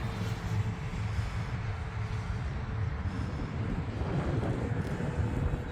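An FMS P-47 Razorback RC model warplane flying aerobatics, its electric motor and prop giving a steady, broad whooshing drone that swells slightly as it passes, continuous throughout.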